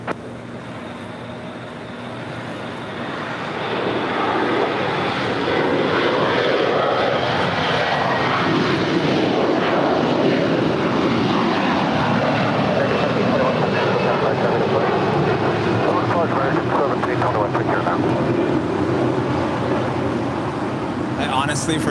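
An airliner takes off at LAX, its jet engine roar swelling from a low rumble into a loud, sustained whine and rush that holds close and steady.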